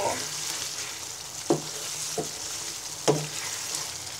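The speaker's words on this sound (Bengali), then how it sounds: "পাঁচফোড়নটা আচারের সাথে ভালো করে মিশিয়ে নিব" Raw mango pickle cooks quietly in a pan as spice powder is stirred through it, a soft steady sizzle broken by two or three sharper scraping strokes of the spoon, near and fairly faint.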